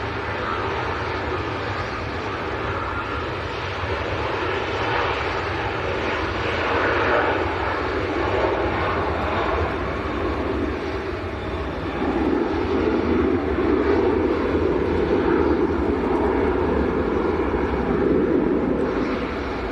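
Privilege Boeing 777 jet departing Manchester Airport, a loud, continuous engine roar that holds steady and swells slightly toward the end, heard from the ground.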